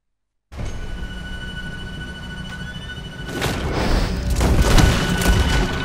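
A gunshot in the Western game Red Dead Redemption 2 sounds as a loud, booming blast with a rolling tail, followed by a second boom, over rumbling in-game ambience and no speech.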